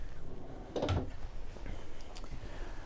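An RV's bottom drawer in a 2021 Grand Design Imagine 2800BH travel trailer slides open or shut with one short wooden thump and rattle, near and moderately loud, followed by quiet room tone.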